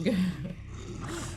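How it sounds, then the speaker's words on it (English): A deep, rumbling snore from a bear, a low throaty drone that swells at the start and then rasps on more softly. "He's sleeping so deeply in the cave that he's snoring"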